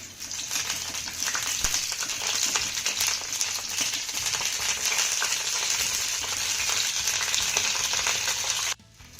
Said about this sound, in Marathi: त्यानंतर हा फ्लावर आपल्याला तुपावरती छान असे डाग पडेपर्यंत भाजून घ्यायचा आहे